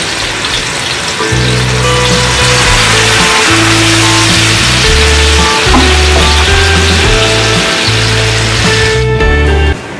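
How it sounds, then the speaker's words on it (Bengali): Spice masala with yogurt and salt frying in a pan for a paneer stuffed potato gravy, with a loud, dense, continuous sizzle under a steady low hum that cuts off near the end. "মশলাটাকে কষিয়ে নেব।"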